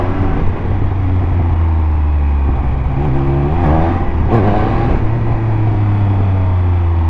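A Triumph Speed Triple 1200 motorcycle accelerating hard in first gear, a loud, close engine whose pitch climbs and surges through the revs with a brief throttle blip, no talking.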